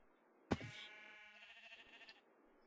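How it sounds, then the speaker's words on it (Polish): A single synthetic Minecraft sheep bleat follows a sharp knock, a short wavering baa, clear and isolated against near silence. "Owce słyszę!"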